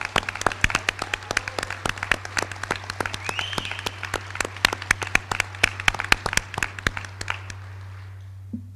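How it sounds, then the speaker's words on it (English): Graduates at a college commencement giving a long round of applause, dense sharp claps ringing through a large hall over a steady low hum, gradually thinning out toward the end. "I need you to give yourselves a big round of applause"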